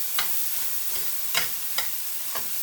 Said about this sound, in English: we're just going to move them around the skillet a little bit, saute them, and get them edible